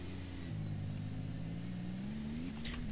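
Car engine in GTA San Andreas droning steadily at a low, sustained pitch that rises gradually as the car drives on, loud and continuous with no talk over it.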